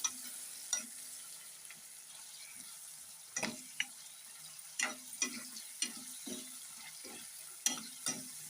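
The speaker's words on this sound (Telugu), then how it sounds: "ఉల్లిపాయలు అయితే ఎర్రగా వేగాలండి" Onions fry in a pan with a faint, low sizzle, joined by scattered sharp clicks and scrapes from stirring that come irregularly and close by.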